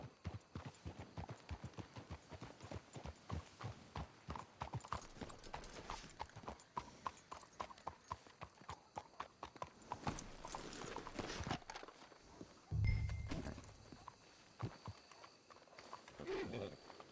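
Rhythmic clip-clop of horse hooves in Red Dead Redemption 2, steady quiet footfalls that slow and break up near the end, with a snort and a brief whinny.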